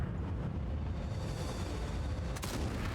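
A tank cannon fires a HEAT round in World of Tanks: one heavy boom near the end, over a continuous low engine rumble with no talk.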